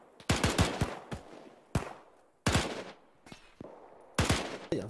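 Rifle fire crack out in the Arma 3 battlefield game with a sniper on the field: a scattering of sharp, loud single shots and short clustered volleys with echoing tails, irregularly spaced and with no speech.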